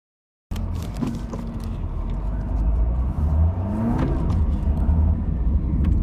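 2020 fifth-generation Honda City BS6 diesel with a manual gearbox pulling away on a test drive: a steady engine hum and road rumble that build as it accelerates, with no talking.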